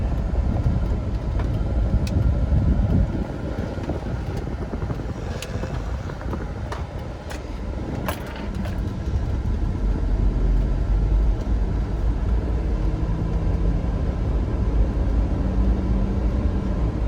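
A 2005 Hummer H2 SUV on a 3/4 ton chassis with 125K miles drives along and swings through a quick U-turn, giving a steady rumbling engine and road noise with some wind buffeting throughout.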